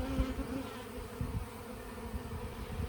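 Bees buzzing in a dense swarm as they are shaken off a brood comb from a top bar hive, a steady close drone with brief louder bursts from the shaking.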